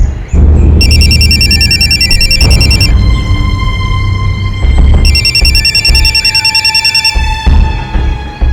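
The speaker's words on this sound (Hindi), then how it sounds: "फोन।" Telephone at home ringing loud and close in two long electronic trilling bursts separated by a pause, over a steady low background hum.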